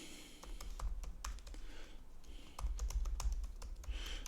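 Someone types a password on a computer keyboard, giving a quick, irregular run of close, crisp key clicks over a low background hum.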